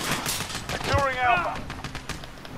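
Weapon fire from the Warhead Blueprint in a Season 1 limited-time shooter game: a burst of gunshot-like blasts with a sweeping whine in the middle, over game noise and talk.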